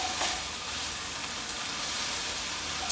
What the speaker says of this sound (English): My vegetables are sauteing away over here